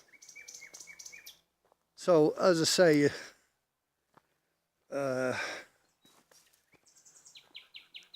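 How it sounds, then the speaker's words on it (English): A nightingale sings in daylight in the background of a countryside setting, with short repeated phrases and chirps between stretches of someone talking close by. "Hear the nightingale in the background."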